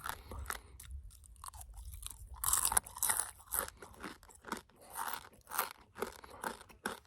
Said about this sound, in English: Wow, that is very, very crunchy. Extremely. That's way more crunchy than the spider was.